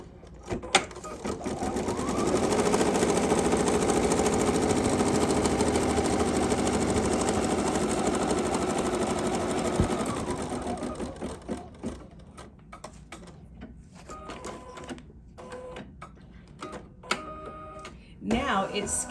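Embroidery machine stitching down a fabric piece on a magenta sampler block, a steady loud mechanical whir with rapid needle rhythm that runs, then stops, followed by a voice talking over clicks.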